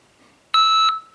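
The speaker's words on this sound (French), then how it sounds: "Mais avec le bip, ça fait vraiment un départ qui est précis." An IPSC shot timer app sounds its start signal: a single loud, steady electronic beep of about a third of a second with bright harmonic tones, alone against a quiet background.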